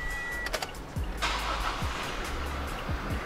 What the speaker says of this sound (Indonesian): tinggal kita nyalakan mobilnya.